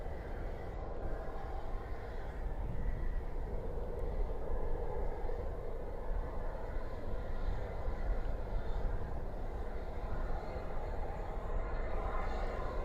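An airplane rumbles steadily on the main taxiway at Dallas/Fort Worth airport at night, a continuous moderate engine drone with no talking.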